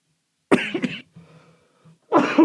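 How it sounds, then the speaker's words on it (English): A man coughs close to the microphone in two harsh bursts, the first a double cough followed by a short raspy wheeze, then another strong cough after a brief pause. "I'm going to be coughing for more"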